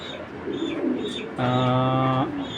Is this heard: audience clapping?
no